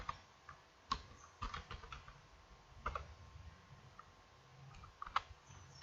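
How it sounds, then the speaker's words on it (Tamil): Keys clatter on a computer keyboard as data is entered into a spreadsheet, with irregular clicks and short bursts of taps at close range, fairly quiet and with no voices. "இப்போ டைரக்டா சீரியல் நம்பர் இப்படி டைப் பண்றோம்."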